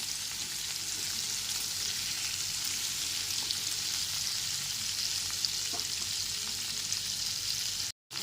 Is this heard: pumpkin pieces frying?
yes